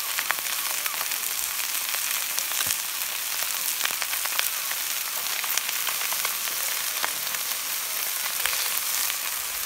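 Raw shrimp fry in a thin drizzle of oil in a pan, giving a continuous close, bright sizzle with scattered crackles and pops throughout and no voices.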